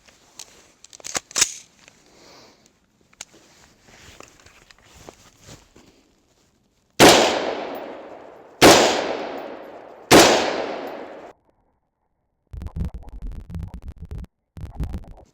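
Three loud, sharp .223 rifle gunshots fired at a tourniquet on a shooting range, evenly spaced with ringing decays, after quiet handling clicks and before some brief rustling.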